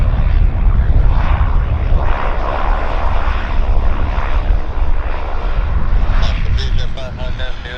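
A Korean Air airliner from Guadalajara, Mexico, on approach to Vancouver airport makes a loud, steady, broad engine roar that fills the whole stretch, with voices talking over it.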